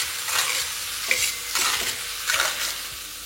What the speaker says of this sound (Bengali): এই স্টেজে ফ্লেমটা আপনাদের একদম হাই করে ভালো করে পেঁয়াজটাকে ভেজে নিতে হবে